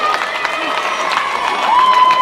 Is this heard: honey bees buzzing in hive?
no